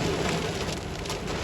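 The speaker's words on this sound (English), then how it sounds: "Crazy rain." Heavy rain pours down during a storm with strong winds, a dense, steady roar of broadband hiss and spatter filling the moment without pause or voices.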